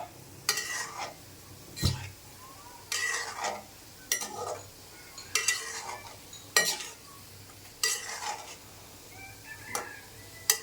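Kalojam sweets frying in hot oil, with a soft continuous sizzle broken by repeated bursts of stirring and scraping as the pieces are moved and lifted out, fairly quiet and close.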